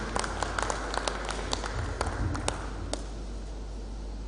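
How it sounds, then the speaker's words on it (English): Sparse, faint applause at a labour arbitration forum, a handful of separate claps over a steady low hum in a large hall. "Please put your hands together for me."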